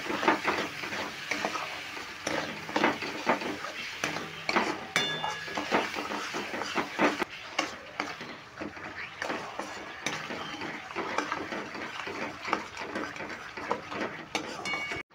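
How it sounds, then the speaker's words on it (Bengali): Sugar and tamarind cook in a pan for coriander pickle, stirred steadily with busy close scraping and clinking of a spoon against metal over a low sizzle, no voices. "দেখো 2 মিনিট আমি নেড়ে রান্না করে নিলাম।"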